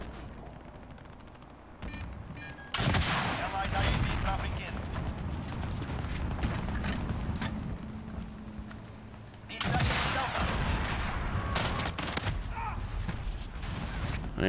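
Gunfire in Call of Duty Modern Warfare, with loud bursts of automatic shots and booming blasts clustering in two heavy stretches amid dense battle noise, while a voice talks over the action.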